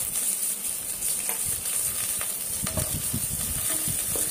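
Green chillies and curry leaves fry in hot oil in a pan for chicken curry, a steady loud sizzle with crackles and spatters popping through it, no voices over the cooking.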